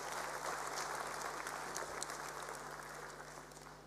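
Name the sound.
audience applause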